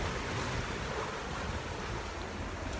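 Ocean waves break and wash around a sailboat mid-crossing of the Caribbean Sea, a steady, faint roar of surf mixed with wind noise, with no voices.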